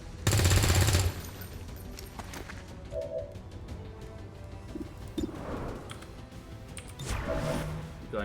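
XCOM 2 gunfire rips out as a loud automatic burst at the start, followed by quieter scattered game effects, clicks and a few short pops.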